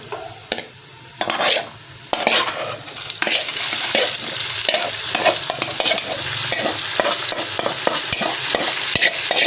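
Thawed beef mince frying in a pan with loud steady sizzling and repeated scraping strokes of a spoon stirring it, close up with occasional clinks against the pan.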